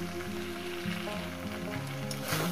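Mochar ghonto, a Bengali banana-flower curry, stir-fried dry in a pan without water, giving a steady close sizzle with a soft scraping stir throughout.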